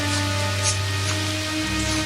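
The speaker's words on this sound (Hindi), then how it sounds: "अरे भाई विजय, तुम लोग यहाँ इतनी रात को इस भारी वर्षा के बीच यहाँ क्या कर रहे ह" Heavy rain falling at night in a cartoon scene, a dense continuous hiss of drops on surfaces with a steady low hum beneath, unbroken and fairly loud, no speech.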